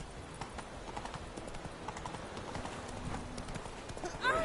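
Horse hooves clip-clop in a steady rhythm in The Witcher 3, faint and distant under game background sound.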